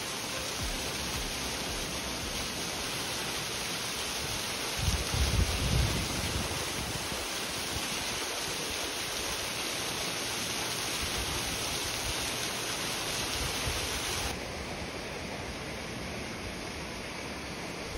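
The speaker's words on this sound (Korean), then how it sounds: "와, 인공폭포네요. 바다와 어우러져 꽤 근사해 보이는데요." Water from an artificial waterfall beside the sea pours in a steady, loud rush of broad noise for the whole stretch, briefly swelling with a low thump near the middle and easing slightly toward the end.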